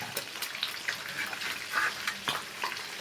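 Ingredients sizzling and frying in a pan for a homemade zinger burger, a steady crackling hiss with brief stirring clatters, close and moderately loud with no talk.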